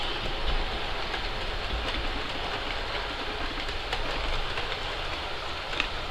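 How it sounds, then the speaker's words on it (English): A model locomotive pushes Hornby Mk3 coaches over points, giving a steady, soft rolling rumble with faint wheel clicks throughout. "This is just showing the locomotive pushing now, stock over the points."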